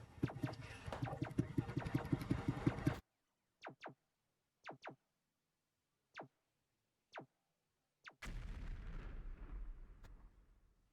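Explosion effects from a video game under development: loud rumbling blast at the start, a run of short sharp pops, then another heavy rolling blast.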